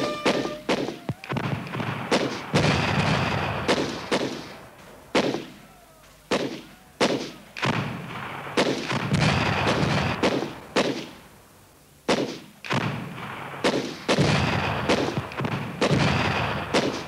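Artillery and gunfire sound effects for the battle of Bazeilles: a rapid series of loud, sharp blasts and booms, some in quick bursts and others spaced apart, each followed by a short rumbling decay.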